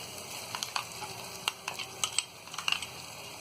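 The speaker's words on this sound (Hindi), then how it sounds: "थोड़ी देर अच्छी तरह से भून लेते हैं।" Methi matar malai curry fries in a pan after cream is added. Close, crackling sizzles and sharp spits pop irregularly over a soft hiss, with a few scraping stir sounds, moderately loud and with no voices.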